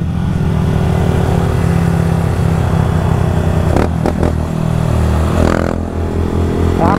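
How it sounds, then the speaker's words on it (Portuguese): Honda Start 160 motorcycle fitted with a GRS exhaust idles with a loud, steady harmonic drone, then snaps through a few quick throttle blips and a longer rev, engine up close and alone. "a moto dele já tava fazendo um barulhinho estranho, rapaziada, no motor"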